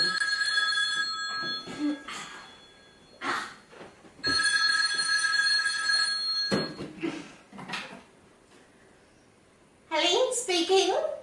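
A telephone bell rings in two long, loud bursts during a school stage show, with spoken voices in the pauses between the rings.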